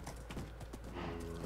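A horse gallops in a blocky video game with quick, rhythmic clip-clop hoofbeats. The hoofbeats are fairly quiet and fill the brief moment.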